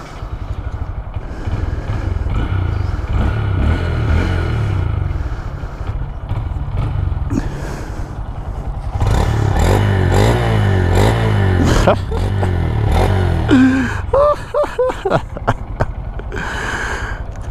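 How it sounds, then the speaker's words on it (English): Steady engine of a Honda Grom motorcycle, idling then revving up and down with rising and falling pitch, loud and close, with a rough, buzzing small-engine tone. "Wow, that clutch is like really soft, but let's do it."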